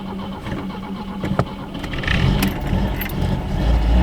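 A car engine that has sat unused for two months cranks and catches, rising into a loud, rough idle with some jangling in the foreground; no one speaks.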